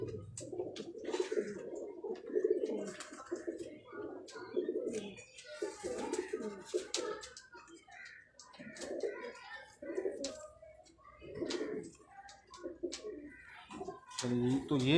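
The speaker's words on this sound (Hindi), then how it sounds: "तो ये कुछ कबूतर थे" Ferozpuri pigeons coo in low, rolling calls throughout, close by, with someone talking over them at times and occasional chirps in the background.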